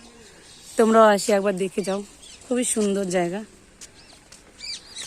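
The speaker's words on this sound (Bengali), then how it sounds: "পাখির ডাক" Birds chirp and call faintly in the afternoon at the Cooch Behar Rajbari palace grounds, brief high tweets scattered through the clip while a person talks in the foreground.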